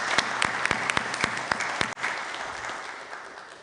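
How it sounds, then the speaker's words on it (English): Scattered applause at a public forum on racism: a handful of distinct, sharp claps ring out close by at first, then give way to a softer, fading patter of clapping from the wider audience. "let's do applause"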